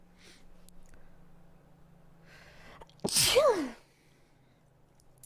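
A single sharp sneeze bursts out close up after a quiet pause, loud and brief with a breathy tail, standing alone against faint background hum.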